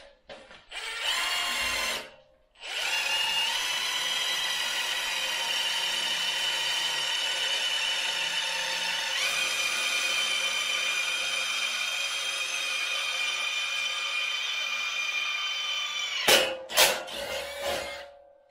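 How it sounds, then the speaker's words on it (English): Impact drill boring through the fabric of a building to protect meter tails, a loud steady whine with a short burst first, then one long continuous run broken by rattling bangs near the end. "So now we're going to drill these bits through."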